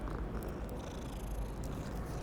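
Cat purring in Hogwarts Legacy, a close, low, rhythmic rumble that keeps going steadily throughout, with a faint game ambience behind it and no talking.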